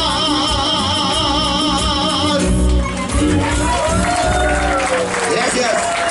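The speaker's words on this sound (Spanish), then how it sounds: "Gracias, muchas gracias por los aplausos" A live audience claps and cheers at a music program's concert, the applause swelling over fading music and crowd noise while someone speaks.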